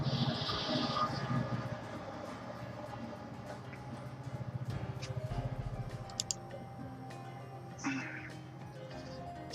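Rumble and rattle of a passing train heard from close by, a steady loud roar with rhythmic clacking that swells and thins, over a bed of background noise, with a voice speaking over the start.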